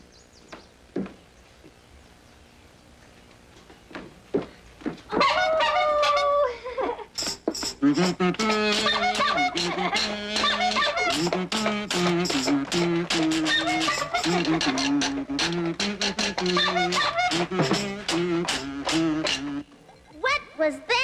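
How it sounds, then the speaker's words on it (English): A one-man band playing in a children's TV show, starting with scattered clanks and knocks, then a loud, busy burst of layered instruments and percussion that runs steadily for about twelve seconds before cutting off. "That was the sound of a one-man band."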